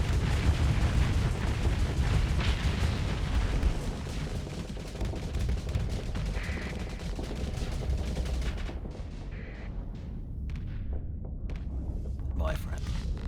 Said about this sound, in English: Point blank range, fire torpedoes.